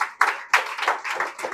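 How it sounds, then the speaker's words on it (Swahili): An audience at a public debate at a college in Mwanza claps in scattered bursts, a few distinct, close hand claps rather than sustained applause. "naomba tumpigie sana makofi Daktari Samia Suluhu Hassan"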